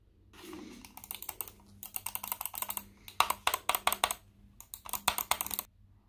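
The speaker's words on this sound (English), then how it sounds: "So once we pull it out, we'll have a listen to the how the mouse sounds." Buttons on an iDigital gaming mouse click in quick irregular bursts, sharp close taps in several clusters separated by short pauses, with no talking.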